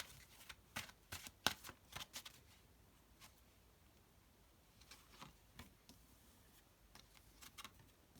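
Quiet riffling bursts of tarot cards being shuffled, a cluster of quick flicks early on, then a pause and a few softer shuffles later.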